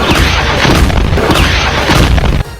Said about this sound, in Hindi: इराक के उस एयरबेस के अंदर एक के बाद एक जोरदार धमाके होने लगे